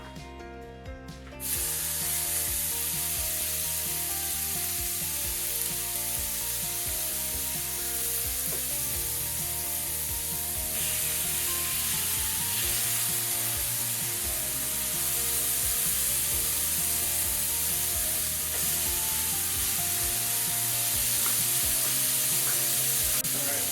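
Lamb barbacoa burgers, a little wet, sizzle steadily in a pan heated to medium. A loud, continuous hiss runs close by for the whole stretch after a brief quieter start, with occasional shifts as the patties settle.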